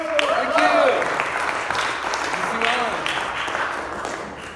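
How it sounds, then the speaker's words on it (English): Audience applause at a gospel magic show, a moderate wash of clapping that runs under a voice speaking over it throughout. "Give him a big round of applause."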